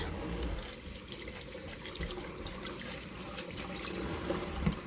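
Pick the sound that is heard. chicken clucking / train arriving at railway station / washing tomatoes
washing tomatoes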